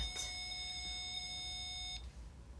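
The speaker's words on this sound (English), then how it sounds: "If you touch the antenna of this, it will beep." A handheld ghost-hunting device gives a single sustained electronic beep of almost two seconds when its antenna is touched, clear and steady, then stops abruptly, leaving quiet room hum.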